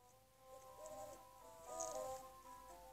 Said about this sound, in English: I heard an owl.